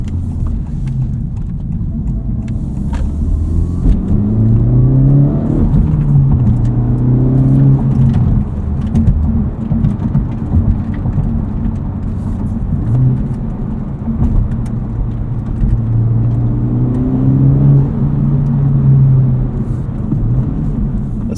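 A 2023 Honda Civic Type R with its front resonator deleted drones steadily while driving, with rising and falling revs, a low exhaust rumble throughout and subtle blow-off valve noise off throttle.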